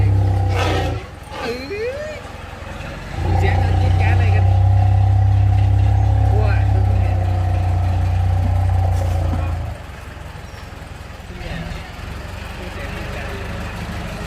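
A tractor engine chugs nearby with a low, steady rumble that surges louder for several seconds, while people talk over it.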